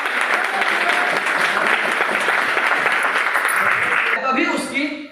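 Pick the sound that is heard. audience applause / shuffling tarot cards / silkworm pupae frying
audience applause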